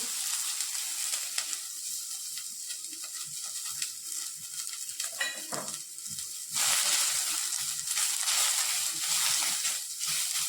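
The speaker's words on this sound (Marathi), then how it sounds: "त्यानंतर चिरून घेतलेला कांदा आपण भाजून घेऊ" Onions sizzle and crackle in a hot pan with occasional stirring scrapes; the frying grows noticeably louder toward the end.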